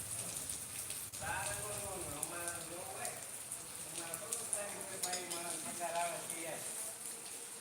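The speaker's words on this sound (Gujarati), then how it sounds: "અત્યારે ધીમી ભારે વરસાદ ચાલુ થઈ ગયો છે" Slow but heavy rain falls in a village, a constant hiss of drops on surfaces throughout, with someone talking over it.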